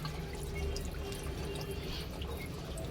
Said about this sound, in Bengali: বেসিনেরও জল একদম হুড়িয়ে পড়ছে